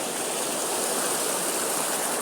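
River water rushes steadily over rocks beside a stream bridge in rural Nepal, a continuous broadband hiss close by with no voices.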